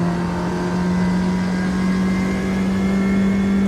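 A Ginetta G40 race car in Automobilista 2 drones at a steady, high engine pitch, loud and close from inside the car, holding an even note throughout with no gear changes or voices.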